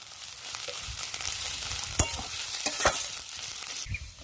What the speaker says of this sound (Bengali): তো মশলাটা আমি ভালো করে নেড়ে নিয়েছি।